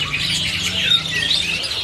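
Young Javan white starlings (jalak putih) in a bird shop give high, thin chirps and tweets in quick succession, close by, over a low background hum.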